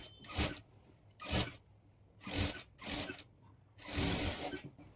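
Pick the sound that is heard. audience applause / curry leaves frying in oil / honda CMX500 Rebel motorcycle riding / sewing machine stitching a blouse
sewing machine stitching a blouse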